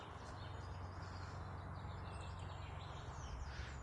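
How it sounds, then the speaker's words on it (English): Faint birdsong drifts through a steady wash of outdoor hiss in Dockesley Woods with no traffic, a few thin chirps coming from a distance in an otherwise quiet setting. "when there's no traffic, you can really hear the birds"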